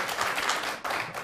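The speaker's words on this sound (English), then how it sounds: "I love that Aaron leads the applause on that." Brief applause from a small group, a quick patter of clapping hands at moderate volume with a short dip near the end.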